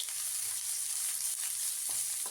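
Chopped onion and green chilli fry with mustard seeds in hot oil, a soft, even hiss with a couple of light stirring scrapes near the end.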